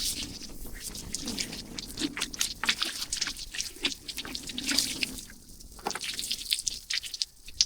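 Water splashes and drips while a freshly butchered farm-raised chicken is rinsed out by hand, a close, irregular run of wet squishes and trickles.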